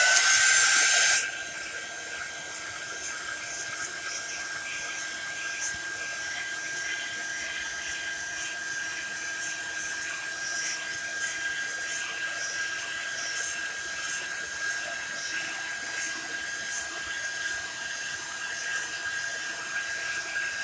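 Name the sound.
heat tool drying chalk paste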